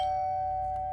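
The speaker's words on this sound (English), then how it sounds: "The bell door rings once again, but you don't respond." A doorbell rings inside a house in an interactive horror game, one steady electronic tone held close and clear over a quiet low hum.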